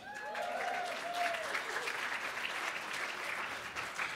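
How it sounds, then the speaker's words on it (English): A crowd claps steadily after a speaker recalls his first season of high school football, a dense, even patter of applause, with a brief whistle or cheer at the start. "you can clap"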